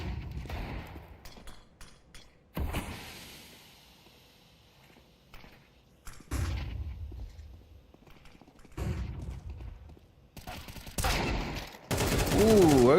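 Desert Eagle pistol and AK rifle gunfire in a Counter-Strike match, scattered sharp shots and short bursts at varying distances, separated by quieter gaps, footsteps and background sound, with a louder burst near the end.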